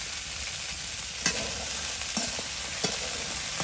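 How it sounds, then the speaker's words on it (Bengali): Tilapia curry with salt sautés in a pan, a steady soft sizzle with three or four sharp spatula scrapes and knocks against the pan as it is stirred, no voices. "লবণ দিয়ে ভালোভাবে কষাই নিবি"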